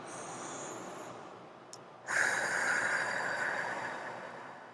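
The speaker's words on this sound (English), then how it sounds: "So let's take 2 more deep breaths." A deep breath drawn in through the nose, then a longer, hissing exhale through the mouth, close and fairly soft, with no talk.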